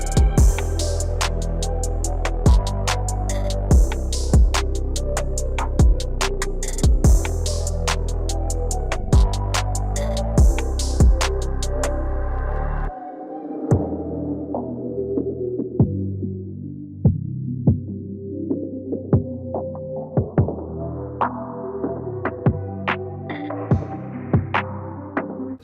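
Electric hair clippers fitted with a number 1 guard, lever fully closed, buzz loudly and steadily during a self-administered buzz cut, with rhythmic pulses from the passes through the hair and a drop in pitch and level midway.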